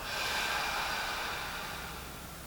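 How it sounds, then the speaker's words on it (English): A single audible open-mouth exhale during yoga breathing practice, a soft breathy whoosh lasting about two seconds and slowly tapering, heard close and alone. "Open mouth audibly, exhale."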